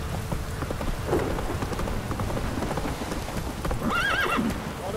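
A horse in The Witcher 3 video game trots and gallops with steady clip-clop hoofbeats over a patter of rain, and it neighs and whinnies loudly near the end.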